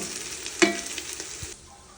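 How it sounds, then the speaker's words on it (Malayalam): Onions sautéing in a pan until brownish for a chicken curry give a steady, close sizzle, with one sharp utensil clink near the start before the sound softens at the end. "ഒരു ബ്രൗണിഷ് കളറാവുന്ന വരെ നമുക്ക് വഴറ്റണം"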